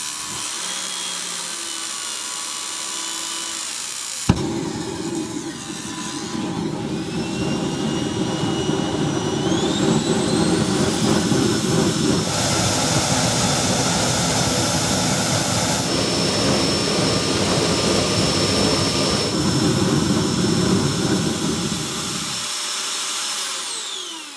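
A homemade electric jet engine spools up with a rising whine into a loud, steady roar that holds for about twenty seconds before cutting off abruptly.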